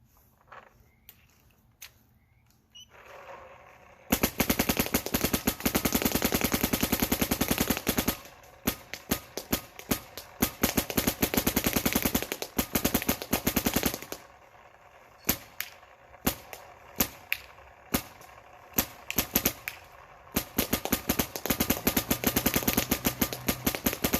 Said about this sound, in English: We've shot a half case of paint in this short amount of time.